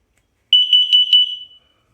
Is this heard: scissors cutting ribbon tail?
no